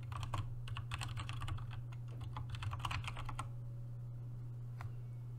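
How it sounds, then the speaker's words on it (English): Rapid clicking of keys on a computer keyboard as a chat command is typed for a Fortnite lobby bot, a close, steady burst of keystrokes over a low electrical hum, fading into sparser taps. "So type in !skin."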